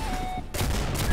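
Gunfire in the Roblox game Arsenal, a rapid burst of loud shots packed into about a second, sharp and close with no talk over it.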